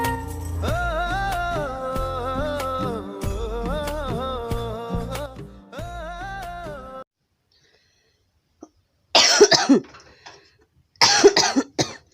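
Two short bursts of coughing, harsh and close, follow a stretch of music that fades to quiet.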